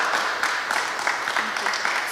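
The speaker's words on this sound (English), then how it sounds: "please put your hands together and round of applause" An audience at an evening talks event applauds, a broad, continuous wash of many hands clapping, moderately loud and sustained for a couple of seconds.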